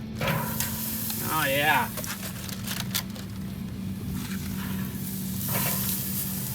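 Ribeye steaks taken out of tin foil are searing on a Po' Man grill, giving a steady close sizzle with brief metallic handling noises. A voice speaks briefly over the sizzle.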